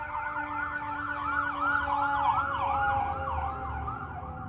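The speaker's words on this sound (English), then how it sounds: "As the sirens go by." Emergency vehicle sirens wail past on a city street in Austin, Texas, their sweeping wavering tones rising and falling steadily over low traffic rumble for several seconds.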